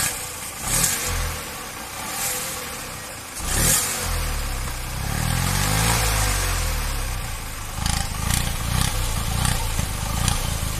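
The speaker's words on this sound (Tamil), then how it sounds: "டாட்டோ நானோ சைலன்ஸ் இருந்து ஓட்ட அந்த சவுண்டு தான் நீங்கள் கேட்டுக்கிட்டு இருக்கீங்க" A Tata Nano car engine runs with its silencer removed, giving a loud, raw, rasping exhaust note that idles and then revs up and down in repeated surges, close by and with no talking.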